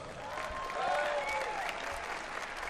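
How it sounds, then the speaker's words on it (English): Audience applause fills the hall after a first-round match at a professional darts tournament in Hungary, a steady burst of clapping with a few faint voices underneath. "A big round of applause to Jake Jones."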